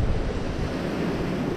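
Rough, stormy sea surf crashing onto a beach at dusk during surfcasting, a loud continuous roar of breaking waves with wind buffeting the microphone throughout.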